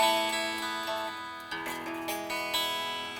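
Ibanez AS63 semi-hollow electric guitar played unplugged, a short run of plucked acoustic string notes with bright, fairly quiet attacks and quick decays.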